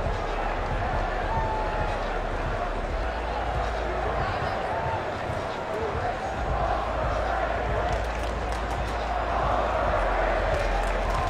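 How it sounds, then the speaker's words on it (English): Arizona State basketball fans in a college arena give steady applause and crowd noise, a continuous roar that holds level for the whole stretch while a commentator talks over it. "Some of the Arizona State fans applauding the young man and trying to encourage him."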